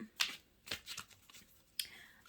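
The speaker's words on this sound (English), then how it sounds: "These are some pretty big cards, so they're kind of hard to shuffle." Oversized tarot cards are shuffled by hand, giving a few separate soft riffling bursts with quiet gaps between them, close and fairly faint.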